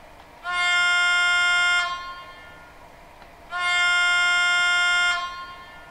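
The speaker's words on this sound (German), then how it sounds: "F3, Signalhorn tief." A Jägerndorfer MAK G800 BB model locomotive gives two blasts of its low signal horn, each lasting about a second and a half with a short gap between, loud and close against a quiet room.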